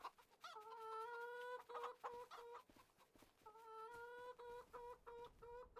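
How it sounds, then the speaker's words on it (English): Chickens cluck and squawk inside a farm chicken coop on the Iowa plains, several birds calling close by in overlapping, repeated bursts with no talking. "Plenty of feed in the chicken coops."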